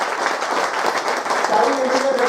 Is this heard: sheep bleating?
no